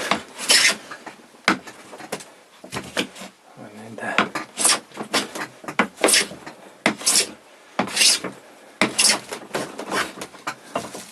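A Stanley No. 4 hand plane takes repeated rasping strokes across hardwood, each pass a close, rhythmic scrape with short pauses between, about a dozen strokes in all.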